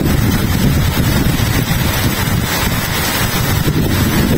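Strong wind roars steadily and loudly during a rainstorm in Qatar, buffeting the microphone with a constant low rumble and hiss throughout, no voices present.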